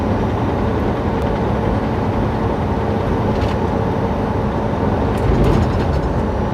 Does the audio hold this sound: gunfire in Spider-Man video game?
no